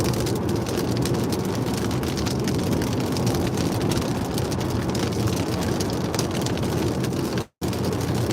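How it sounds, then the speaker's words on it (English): Rain falls steadily on a car during a drive from Sutton to Folkestone, a dense continuous patter drumming on the surface with road noise beneath and a momentary dropout near the end. "Rain is starting to come down now"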